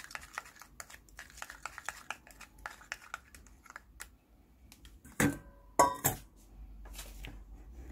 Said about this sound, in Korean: 그리고 나서 이번에도 첨가물들이 잘 섞일 수 있도록 저어주세요